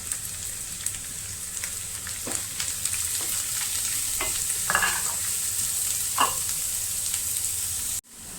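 Chopped onions and curry leaves fry in hot oil with a steady, close sizzle, while a spoon stirs them in intermittent scraping strokes; the sound cuts off abruptly near the end.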